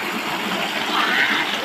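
Strong spring water rushes and flows steadily nearby, a dense broadband hiss of running water that stays loud and unbroken throughout.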